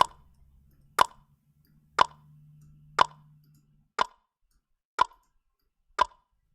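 Drum machine loop soloed with a FATFX effect in Logic Pro X, a sparse pattern of sharp, evenly spaced percussive hits about once per second, clean and isolated with a faint low tone underneath early on.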